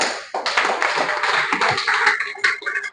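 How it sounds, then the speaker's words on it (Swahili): An audience at a business summit in Naivasha breaks into dense, fairly loud applause lasting a few seconds, with many hands clapping at once before fading out. "mnaweza nipigia makofi"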